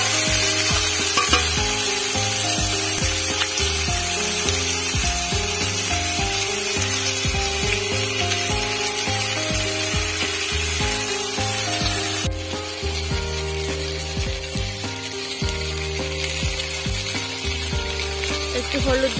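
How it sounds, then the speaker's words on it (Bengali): Taro and potato stir-fry in a pan, a steady dense sizzle with scraping and rubbing from a spatula that keeps stirring throughout, close and fairly loud, with no talk. "কচু আর আলুটা দিয়ে ভালো করে নাড়তে হবে যাতে কাঁচা গন্ধটা চলে যায়।"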